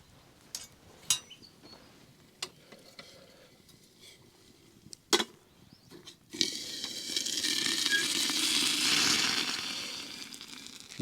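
Water comes to the boil in a kettle outdoors, a rising hiss and bubbling that swells over the last few seconds, preceded by scattered clinks and taps of handling nearby.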